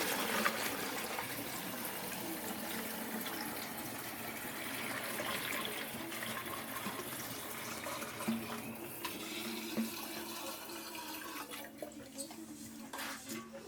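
Water poured through a funnel into a 5-gallon carboy already holding about 2 gallons of water, a continuous splashing, gurgling flow that runs steadily and grows more broken near the end, with faint voices in the background.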